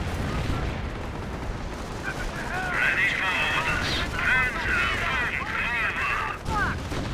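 Recoil rifles and gunfire in the strategy video game Company of Heroes, repeated battle shots and bursts mixed with game effects, heard under continuous commentary.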